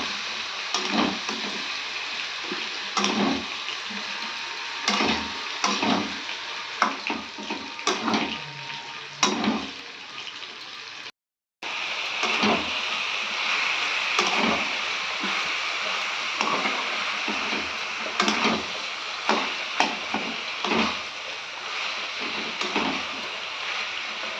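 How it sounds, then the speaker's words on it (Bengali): Boiled cabbage and potatoes sauté in a spice masala in a pan for a Bengali cabbage dish, with a continuous loud sizzle broken by repeated spatula scrapes and clatters and one brief dropout. "এবার এই মশলাটার সাথে কষবো"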